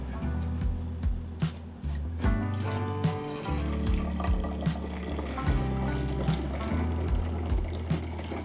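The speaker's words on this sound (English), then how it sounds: "Put in a little funnel, pour it in while it's still hot" Hot birch syrup poured through a small funnel into glass bottles, a close, continuous liquid trickle and glug with rising fill tones and light clinks of glass, no talking.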